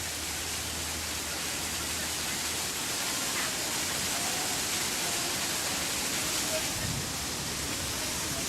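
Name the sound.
waterfall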